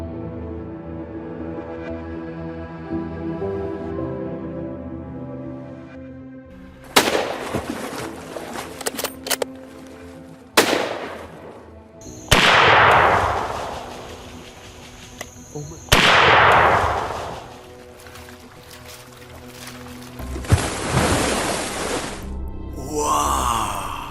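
Hunting rifle shots ring out on an African savannah during a clash with baboon troops: about five loud, sharp reports spread over the span, each with a long decaying echo, following a low droning tonal passage.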